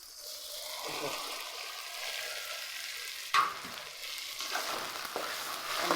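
A soft, low sizzle of ground coconut masala paste cooking in a pan for cauliflower gravy, with occasional scraping strokes as it is stirred.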